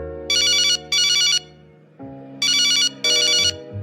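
A telephone rings in short repeated bursts, four bright electronic trills in two pairs over a low sustained musical background, loud and close.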